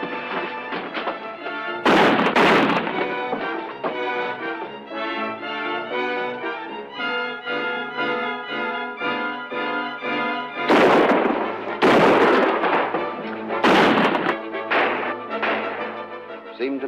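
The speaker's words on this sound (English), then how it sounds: "Seemed to me I heard shots in the distance, but I wasn't sure." Gunshot sound effects in an old radio drama: several heavy booming bursts, one early and a cluster later, ring out over a continuous musical score.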